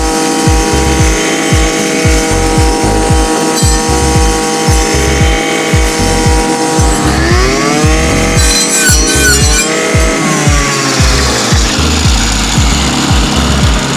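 Dnipro-M 50RX petrol brush cutter with a cutting disc slicing into a bush, loud close engine droning and revving throughout, pitch rising under load midway.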